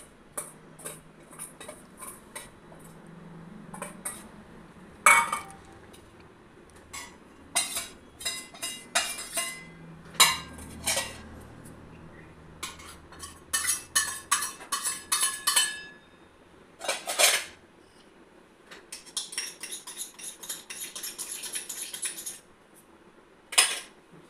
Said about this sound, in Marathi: मिक्सरच्या भांड्यात टाकून घेऊयात.